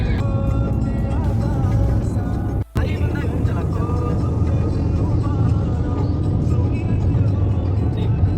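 A car travels along a road with a steady engine and road rumble throughout, while someone talks and devotional bhajan music plays inside the car.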